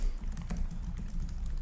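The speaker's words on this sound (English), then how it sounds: "Keyboard feels great." Fingers typing on the keyboard of an Acer Predator Helios 300 gaming laptop, a steady run of soft, quick key clicks close up with no talking.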